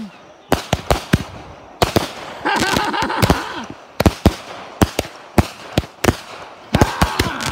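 Birthday fireworks show bursts nearby in loud, sharp cracks and booms, coming singly and in quick clusters, with crackling rumble between blasts.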